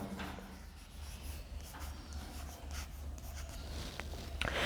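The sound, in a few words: writing an accounting entry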